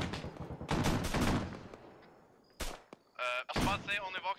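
Friendly soldiers firing in Arma 3, with a few sharp bursts of gunfire breaking out between stretches of talk, moderately loud and somewhat distant.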